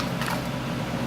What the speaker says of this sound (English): this is the old teletype printer